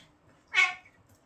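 A neutered male cat gives a single short meow, close and fairly clear, against a quiet room with faint low background noise.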